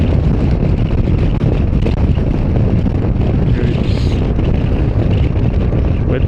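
Strong crosswind rushing over an Aveta Nova 250 scooter on the move, a loud, continuous roaring buffet across the microphone with faint engine drone beneath.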